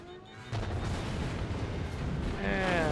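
Battleship guns fire in a naval battle video game, a deep rumbling boom swelling over a second or two as the shot sinks a destroyer.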